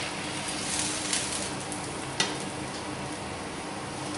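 A ham and onion rösti galette sizzles steadily in a hot pan just after being flipped, a continuous close crackle with one brief sharper tap partway through and no talking.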